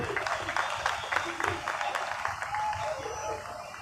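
An audience applauds a student at an award ceremony during a Dr. Babasaheb Ambedkar birth anniversary event, a dense patter of clapping that fades after a couple of seconds while an announcer's voice carries over it.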